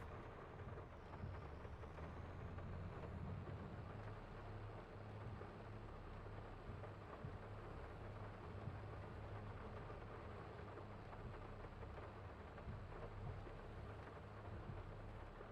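Steady, quiet rain falls in Farming Simulator 22 on a Carpathian farm, a constant hiss with low rumbling beneath and no voices.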